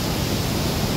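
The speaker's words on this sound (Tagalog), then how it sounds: "Bilis nung agos." A fast-flowing river current gives a constant, dense rushing wash of water, close and full with no pauses over a brief moment.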